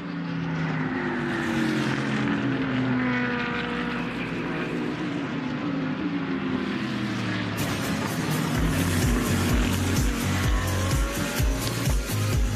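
A Ferrari GT race car at Phillip Island during a GT World Challenge Australia race roars past with a loud, high-revving engine note that swells and shifts, ending in a rapid rattling drone as it goes by.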